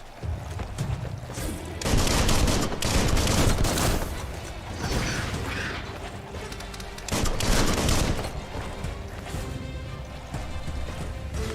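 Bursts of gunfire in the video game Biomutant: rapid volleys of shots and impacts in several loud waves, with brief lulls between them and no talk over the action.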